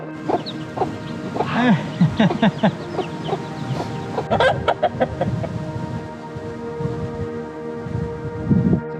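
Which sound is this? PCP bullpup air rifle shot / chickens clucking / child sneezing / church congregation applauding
chickens clucking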